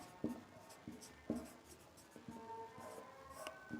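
A pen or chalk scratches across a board during a Haryana general-knowledge lesson, with several short, distinct stroke bursts in an uneven rhythm, close and fairly quiet, with almost no talking.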